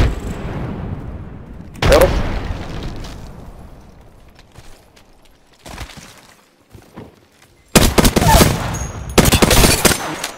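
Gunfire in the Apex Legends battle royale video game, with loud bursts of rapid shots separated by quieter gaps and a heavy, sustained volley near the end.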